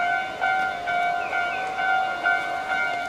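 Train arriving at a station in Iga Ueno, Japan, with steady tonal whine and bright horn-like tones holding across the clip, fairly close and continuous over low rumble.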